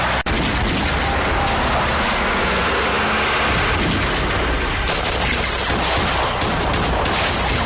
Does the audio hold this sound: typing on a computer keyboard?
no